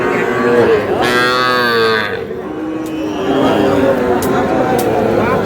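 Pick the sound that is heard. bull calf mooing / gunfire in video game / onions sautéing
bull calf mooing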